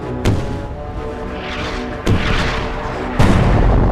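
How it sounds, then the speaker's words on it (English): The battleship Rodney's 16-inch guns fire on the Bismarck: three heavy booming blasts about a second apart, each followed by a rumbling roar and rising background din. "The Rodney is firing 16-inch shells at the Bismarck."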